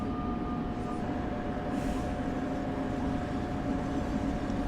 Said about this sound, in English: This American train's got an attitude.